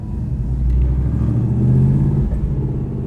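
A numbered Shelby car's engine runs at high RPM, giving a loud, close, steady low rumble that swells slightly and holds without a break.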